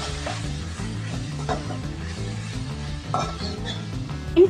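Tomato and onion pieces cook softly in a pan for chutney, a steady low sizzle with occasional stirring and a faint utensil clink, no talk.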